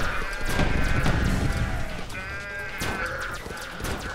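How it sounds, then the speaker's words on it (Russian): Electric sheep in DEEEER Simulator bleating in short wavering cries, mixed with clattering game effects and hoof-like clops, fairly loud and busy throughout. "Электрическая еще овца появилась."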